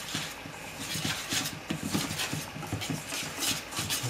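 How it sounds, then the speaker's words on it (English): Vanilla, salt and powdered sugar being whisked in a bowl for a sour cream cheesecake, a rapid, continuous clatter of the whisk against the bowl, close and moderately loud. "And I'll whisk that up and wait."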